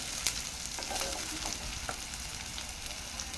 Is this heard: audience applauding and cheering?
no